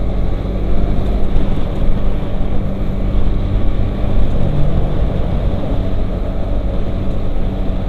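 Engine of a Suzuki GSX-R 150 motorcycle with its stock exhaust, running on Shell V-Power Nitro, drones loudly and steadily up close, a thick low rumble with little change in pitch.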